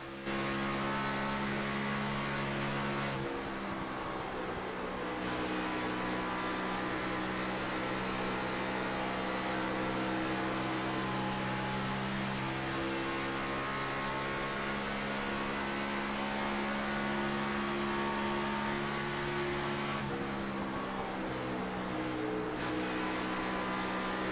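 Stock cars in a racing video game roar down the front stretch at Kansas, a steady, loud, droning engine whine with shifting pitch as cars pass, continuous throughout with no voices.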